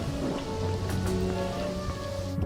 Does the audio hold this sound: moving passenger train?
no